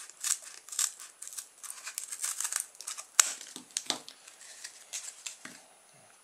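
Faint, close crinkling and snipping as a small part is cut down to size for a toy build, irregular soft crackles with a couple of sharper clicks, no voices.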